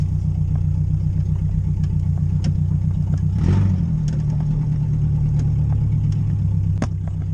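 A government-sponsored rally car with 147,000 miles idles close by, a loud, steady low rumble that holds an even pulse from start to finish, with a brief swell partway through.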